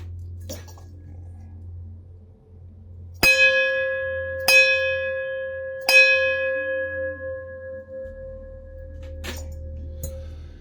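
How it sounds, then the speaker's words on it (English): A metal bell is struck three times in slow succession, each stroke bright and ringing with a long sustained tone that decays gradually, with faint scattered knocks before and a low hum in the background. "The main thing we have to do is ring the bell."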